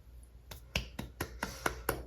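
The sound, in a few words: one person clapping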